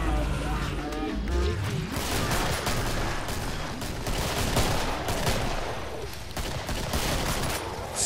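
Rapid heavy gunfire from a hand cannon in the co-op shooter Killing Floor, dense repeated shots filling the whole stretch with loud battle noise, and a voice talking underneath the shooting.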